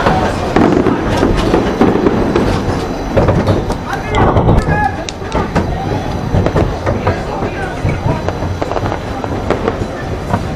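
Fireworks bang and crackle during a night ride on the Kingda Ka roller coaster at Six Flags Great Adventure, mixed with loud rattling track and wind noise and riders' voices throughout.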